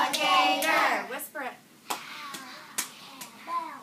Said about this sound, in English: Clap it.